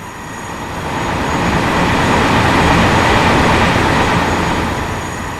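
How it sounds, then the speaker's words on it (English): A train in the video game Farming Simulator 19 rattles past, a broad rumbling clatter that swells, holds for several seconds and then begins to fade. "Trains do rattle."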